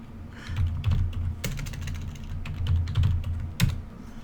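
A computer keyboard is typed on in quick, uneven bursts of close, crisp key clicks with a few heavier thumps, and nobody talks.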